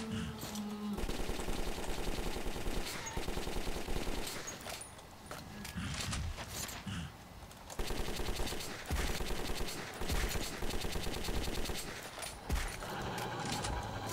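Rapid machine-gun fire from a weapon in the Metro 2033 game, loud sustained bursts broken by short pauses, repeating across the whole stretch with little other sound.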